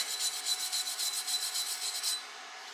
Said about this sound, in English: Let me grab a wire brush. Let's clean this up a bit. Brush this off just a bit.